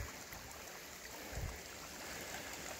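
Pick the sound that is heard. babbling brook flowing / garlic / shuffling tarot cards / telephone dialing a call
babbling brook flowing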